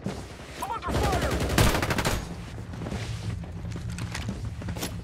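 Video game gunfire from Farlight 84 rattles in dense bursts of rapid shots, loud and close, with a few heavy booms. A player speaks faintly beneath it.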